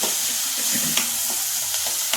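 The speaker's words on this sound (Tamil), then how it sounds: "இந்த மாதிரி வதக்கிக்கோங்க." Soaked carrot, broad bean and beetroot vegetables for poriyal sautéing in a pan, a steady close sizzle with soft stirring scrapes and occasional sharper pops.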